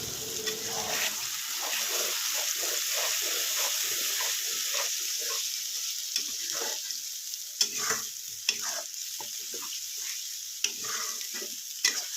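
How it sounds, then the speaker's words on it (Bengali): Spice masala fries and is stirred in a pan, a steady sizzle under repeated scraping strokes of the spoon against the pan, heard close up with no talking. "এখন মশলাটা ভালো করে কষিয়ে নিই"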